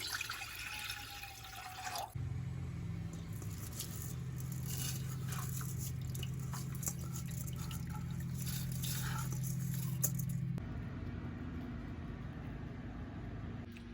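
Water is poured into a cooking pot for rice in a home kitchen, a steady splashing and trickling stream lasting several seconds before cutting off, close and fairly quiet.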